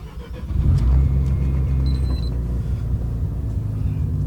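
A right-hand drive JDM Mazda RX-7 engine runs steadily, a close, loud, low rumble that swells slightly early on and then holds an even drone with no voices.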